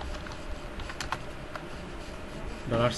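Typing on a computer keyboard, a quick scatter of light key clicks at close range over faint room noise, with a denser burst of keystrokes at the end.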